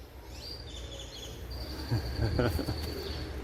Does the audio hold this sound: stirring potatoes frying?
no